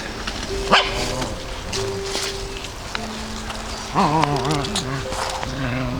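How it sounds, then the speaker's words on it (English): A small dog on a woodland walk yips and barks in short bursts with rising whimper-like tones, near and fairly loud, with light wind in the background. "This little Rosie, got my brother's dog again"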